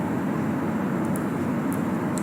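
Spacecraft engine thrusting in Kerbal Space Program, a steady, dense roaring rumble that holds constant and loud throughout with no pauses.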